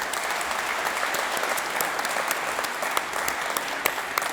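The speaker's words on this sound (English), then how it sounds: "Please put your hands together for all of our councillors." Councillors receive applause from the audience at an Auckland Council inauguration ceremony, steady mid-level clapping from a sizeable crowd with a few sharper claps standing out.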